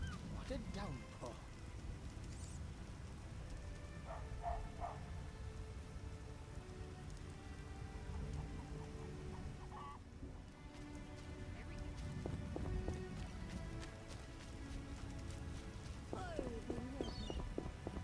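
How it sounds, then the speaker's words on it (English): Steady heavy rain pours down in a video game, a dense hiss of drops with a few scattered clicks and faint tonal sounds mixed in. "What a downpour."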